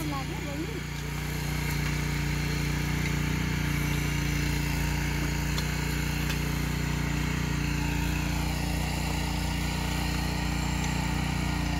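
A tractor engine drones throughout at close range, a low continuous rumble with a constant hum, while faint voices sound beneath it.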